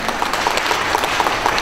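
Steady applause from an audience at a boat race finalists' introduction, sustained dense clapping throughout at moderate loudness.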